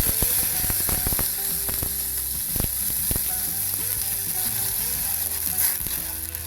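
Chopped garlic and ginger fry in hot oil in a pan, a continuous close sizzle with sharp clicks and scrapes of stirring scattered through it.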